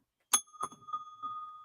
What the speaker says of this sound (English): Oh, bell time.